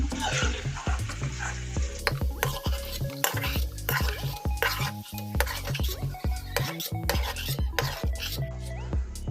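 Broken wheat rava fries in a pan while a spoon stirs and scrapes it in a steady, busy rhythm, with repeated metallic clinks and a faint sizzle underneath, close by.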